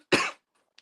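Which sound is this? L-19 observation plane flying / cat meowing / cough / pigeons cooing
cough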